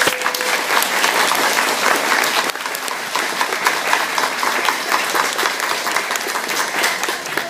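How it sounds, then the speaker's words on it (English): Big, sustained applause from an event audience in Halifax during a live link with the Expedition 30 space crew, dense continuous clapping filling the room at high level. "we'd like to give you a big, big applause"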